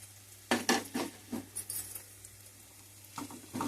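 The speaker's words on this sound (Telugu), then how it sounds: "ఇందులో నేను ఆనియన్స్, టమాటా, మెంతులు వేసి వేపుతున్నానండి" Onions, tomato and fenugreek seeds frying in a pan for a curry, with quiet sizzling under repeated scraping and stirring strokes from a utensil, clustered bursts near the start and end.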